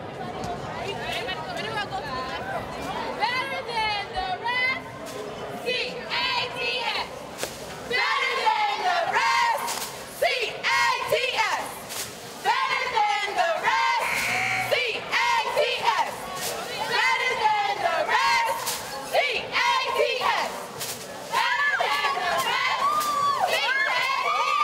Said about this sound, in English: we're going to have a little cheer here from the Bluffton Bobcat cheerleaders